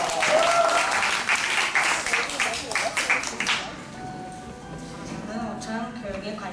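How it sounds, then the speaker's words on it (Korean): Classmates at a student presentation event clap to encourage a student, a few seconds of lively applause that dies away into quieter room sound with talking. "우리 격려의 박수!"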